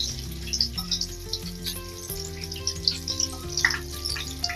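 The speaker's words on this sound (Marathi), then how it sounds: "मी आता ही सगळी भजी अशी तळून घेते" Ridge gourd bhaji fritters frying in hot oil, a steady close sizzle and crackle with soft bubbling running throughout.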